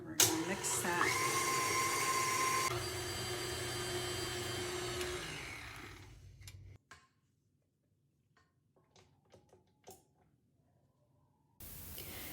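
Cookie butter, mascarpone cheese and vanilla are whipped with an electric mixer, a steady loud whir for several seconds that winds down and stops, followed by faint clinks and scrapes.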